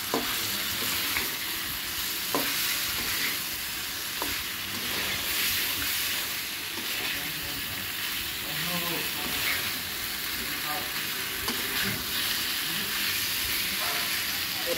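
Ground cumin, coriander, chaat masala and chilli powder are stir-fried in a pan for a tengra fish curry with vegetables, making a loud, steady sizzle broken by occasional scraping stirs.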